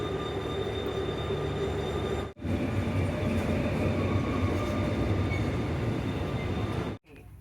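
Steady low rumble and hum inside a Korean KTX high-speed train bound for Busan, continuous and even, with two brief dropouts partway through.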